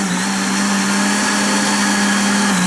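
A kitchen blender grinding oatmeal and cashews for waffle batter, its motor whining at a loud, steady pitch that dips briefly near the end, running alone with no voices.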